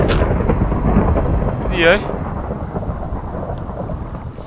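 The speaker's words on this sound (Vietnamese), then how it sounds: "Sao lại cứ sấm sét vào đây nhỉ?" Thunder in the video game Minecraft rumbles loudly and steadily through the whole stretch with a rain-like wash, while a voice briefly speaks over it.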